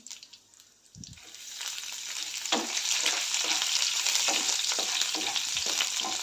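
Crushed garlic goes into hot oil with chana dal and urad dal in a pan, a quiet start followed by a knock and then a swelling, steady sizzle with light stirring scrapes, close and loud.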